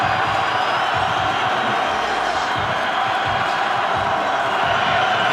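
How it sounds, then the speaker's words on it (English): A packed stadium crowd at an Air Force at Utah State college football game roars in a loud, continuous wash of cheering that holds steady throughout. "Crowd back in it."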